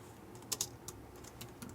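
Faint, sparse keystrokes tap on a computer keyboard in a quiet room, a handful of soft clicks with two sharper presses near the start and no talking.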